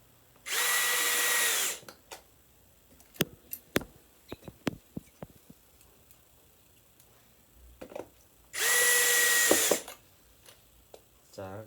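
A power screwdriver drives small screws to mount a fuse on a practice control panel, two sustained whirring bursts near the start and end with scattered clicks and taps of handling between them, close and alone.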